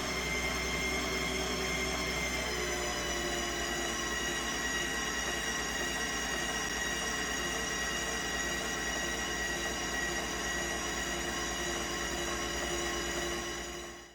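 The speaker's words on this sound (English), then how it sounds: "I let the motor run at full throttle and applied a permanent load onto the motor over the brake disc from my go-kart project" An Infento E-Pulse electric motor whines at full throttle while a go-kart brake disc is held on to load it. The tone is constant, close and unbroken from start to finish, with no voices.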